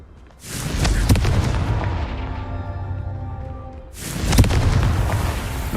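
Two booming fire-spell blasts from the Hogwarts Legacy video game, each a loud, sudden explosion that rumbles and decays over a few seconds, the second one following about three and a half seconds after the first.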